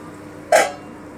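A metal pot lid is lifted off a pan of bitter gourd cooking on low heat, giving a single brief clink with a short ringing decay against a quiet background.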